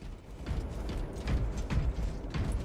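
Reloading an auto bolt rifle in a video game produces a quick run of close mechanical clicks, ratcheting and metallic clacks that repeats in bursts across the clip.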